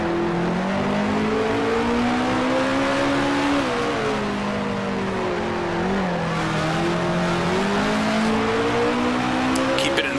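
A 1966 Formula One car engine at Kyalami in the Grand Prix Legends racing game holds a loud, continuous buzzing drone that rises and dips with throttle, alone in the foreground for the whole stretch.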